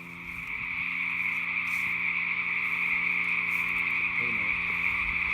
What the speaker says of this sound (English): Okay, we're just about to find the frogs.